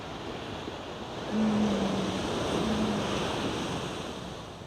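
Ocean surf washes steadily against the shore while wind rushes across the microphone, a continuous, full roar with a slight swell in the middle and no voices.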